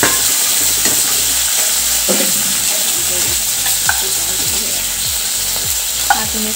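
Lentil dal poured into a hot pan of spices, ginger and turmeric, sizzling and frying loudly and steadily, with occasional stirring clinks close by.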